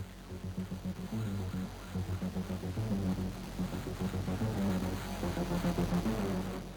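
Layered Vital synth bass intro for a heavy metal track, with the filter cutoff sweeping and the volume riding upward; a dense, steady low pulse with rhythmic throbbing notes plays alone without any voices.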